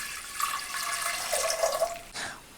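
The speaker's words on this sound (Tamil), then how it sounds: "இப்போ வந்து பெரிய டம்ளரில் 2 டம்ளர் தண்ணி சேர்த்துக்கலாங்க." Water is poured into a pot in a short splashing stream, rising in pitch as it fills, then stops abruptly.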